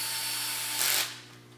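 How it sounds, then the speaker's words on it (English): Lightweight cordless drill driving screws during assembly of a 20 ft tape, a short close whirring burst with ratcheting clutch clicks, rising briefly and then fading over a steady background hum. "You want to have a nice lightweight drill. It gets relatively quickly, or spins relatively quickly, but not a lot of power."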